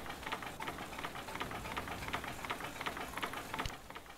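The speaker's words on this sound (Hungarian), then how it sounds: "Igen, hallani, hogy tik-tik-tik-tik-tik-tik-tik-tik." A steam-powered vehicle in the game Spintires ticks along in a fast, even run of light clicks, faint but steady and heard alone.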